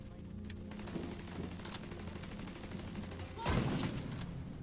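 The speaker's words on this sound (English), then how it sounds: "I just chose the sniper rifle" Sniper rifle shots during a firefight in The Division 2, inside the Air & Space Museum, with repeated gunfire bursts and a louder crack near the end, mixed with game sounds and some talk.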